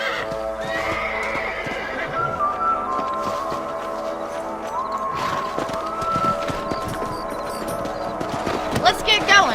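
Horses in the Red Dead Redemption video game trot along with steady clip-clop hoofbeats and repeated neighs and whinnies, set against a continuous bed of game music, with voices talking over parts of it.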